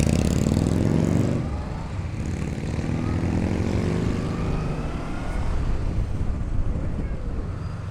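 A Harley-Davidson motorcycle roars loudly on a São Paulo street. A broad, rough engine drone is strongest at first, then eases slightly and stays continuous with a steady throb.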